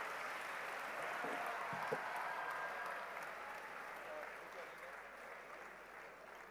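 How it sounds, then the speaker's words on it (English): Sustained applause from a large audience at a world peace and harmony conclave honouring the Dalai Lama, a dense steady wash of clapping that holds for several seconds and eases slightly toward the end. "Let's have a huge round of applause for His Holiness the Dalai Lama."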